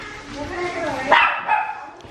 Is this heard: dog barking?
yes